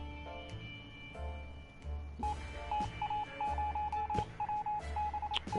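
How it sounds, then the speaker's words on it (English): Beeping radio-style signal tones in a video game, a steady run of short repeated pulses at a regular rhythm, with a low hum underneath. "It sounds like a radio signal to me"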